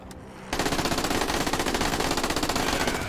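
A rapid machine-gun burst in DF2 rips out loud and close after half a second of quiet, the evenly spaced shots hammering steadily until the end.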